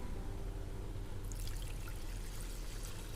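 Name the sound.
pouring water into vermicelli for kesari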